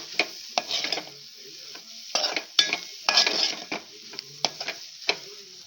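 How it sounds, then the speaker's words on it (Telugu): A spoon stirs onion and egg curry in a pan in close, repeated scraping strokes with pauses between them, over a faint sizzle. "కొత్తిమీర వేసుకున్నాక ఒకసారి కలుపుకొని 1 నిమిషం అలా వదిలేసాక కూర దింపేసుకోండి."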